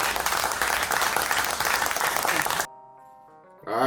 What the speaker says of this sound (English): applause track